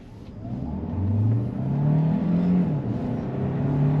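Hyundai Santa Fe hybrid 4x4 SUV pulling hard from a standstill toward 100 km/h, a rising engine drone and whir swelling in pitch and loudness inside the cabin, steady and unbroken with no talking.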